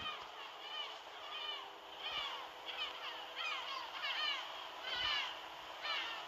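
Seagull calls in the Bus Simulator 2023 game, a steady stream of high, repeated cries at moderate level, overlapping one another across the whole stretch over a faint background hum.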